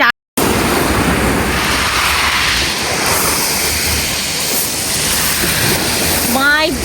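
Large sea waves crash and roar continuously on a beach, a loud broad rush of surf with wind buffeting the microphone.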